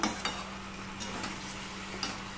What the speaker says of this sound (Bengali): আবারও নেড়ে দিলাম, ভালো করে উপর নিচ করে দিলাম সবজিগুলো।